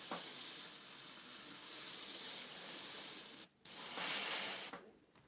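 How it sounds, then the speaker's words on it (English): An airbrush spraying water gives a loud, steady hiss close up, broken by a brief cutoff partway through before it resumes and then drops away near the end. "That's water from me spraying with the"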